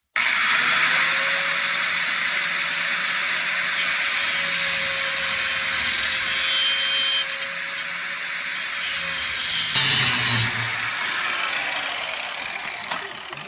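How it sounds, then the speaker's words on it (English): An angle grinder with a worn-down wheel cuts off a snapped nut during removal of a ZF-5 transmission from a 1994 Ford F-250, a loud steady high-pitched whine that holds for several seconds, then falters and grinds roughly near the end. "Now I have to try and use this grinder."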